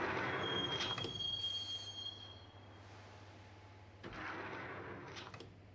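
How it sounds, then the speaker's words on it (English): Subway train ride in the Max Payne video game: a loud rumbling carriage with a high metallic wheel squeal up front, settling into a low steady drone before the rattling roar surges again. "the train doors had already shut behind me, and I was in for the ride"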